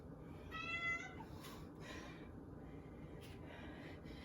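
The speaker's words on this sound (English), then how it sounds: "She has to be one of the chattiest cats in the world." A talkative house cat meows indoors, a few short vocal calls in the first half, then quieter, softer murmurs over a steady low background hum.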